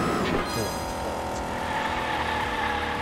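A '69 Dodge Charger Daytona racing in Hot Wheels Unleashed, its engine a steady loud drone with a faint tire squeal near the start, with no voices.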